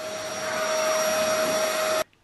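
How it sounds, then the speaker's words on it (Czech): A vacuum cleaner runs steadily with a loud, constant whine while vacuuming a wall, then cuts off abruptly near the end. "My vysáváme zdi."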